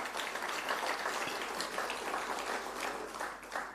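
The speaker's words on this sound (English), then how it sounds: "I think they need a big round of applause" A conference audience at a vocational education forum gives a steady round of applause, a dense, somewhat distant patter of many hands that stays fairly even and faint throughout.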